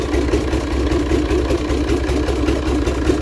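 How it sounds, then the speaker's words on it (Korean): A flooded Yamaha SX420KSH boat engine runs steadily at low RPM after the water has been drained, a continuous close, loud idling drone with a slightly uneven pulse and no talk. "물빼기를 하고 시동 걸었는데 RPM이 좀 낮네요."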